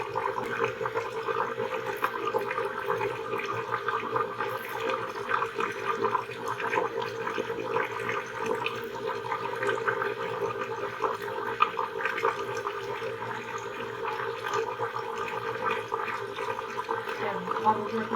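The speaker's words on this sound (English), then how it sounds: "So I'm gonna rinse my washcloth off again" Tap water runs steadily while a washcloth is rinsed under it, a constant close splashing rush that lasts the whole time, with no talking over it.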